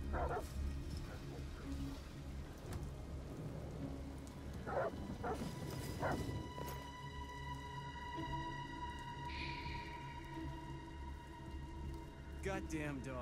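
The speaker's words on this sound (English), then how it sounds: "What the fuck are they barking at?" Dogs barking in the video game Detroit: Become Human, with several sharp barks in a stormy scene, set under rain and low ambient game music while someone talks over it.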